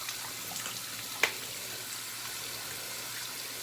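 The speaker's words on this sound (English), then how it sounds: "Rinse off my face a little bit." Tap water runs in a steady, soft hiss while a face is rinsed after a wet shave, with one brief knock partway through.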